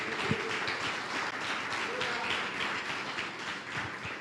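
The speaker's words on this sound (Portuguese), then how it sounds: "Aplauda o Senhor Jesus" Clapping from a church congregation during a Portuguese-language sermon runs throughout, a dense, steady patter of many hands at moderate distance, with a few sharper taps and faint voices mixed underneath.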